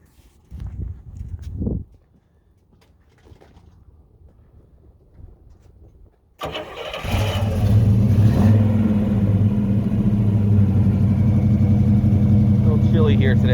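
A 1971 Chevrolet Nova SS with a 350 V8 and mild cam has some quiet thumps and footsteps, then cranks and fires at about six seconds and settles into a loud, lumpy idle with revs.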